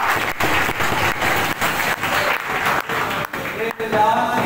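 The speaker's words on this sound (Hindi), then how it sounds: "तालियां।" Applause from a gathered audience, loud and dense, with many hands clapping close by in a continuous burst broken by a few brief dips, and indistinct voices mixed in.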